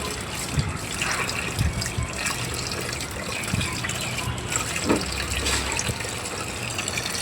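Hilsa fish are washed in a bowl under a running kitchen tap, making steady gushing and splashing water with occasional knocks and sloshes as the fish are handled.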